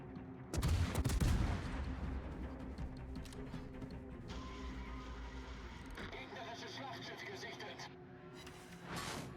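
Heavy cruiser Hipper's ship guns firing in World of Warships: a loud booming salvo near the start, then rumbling, rolling blasts and echoing impacts fading over several seconds, with a further burst near the end.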